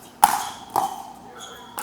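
A pickleball dink struck with a paddle during a pro recreational game, a sharp hollow pop followed by a second pop about half a second later, with faint voices in the background.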